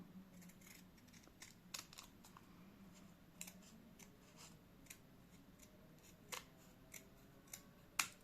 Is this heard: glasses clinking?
no